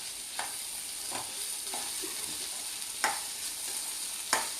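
Ginger garlic paste being stirred into onions frying in a pan for a chickpea curry, a steady sizzle with a few sharp scrapes of the spoon at irregular intervals, close and clear with no talking.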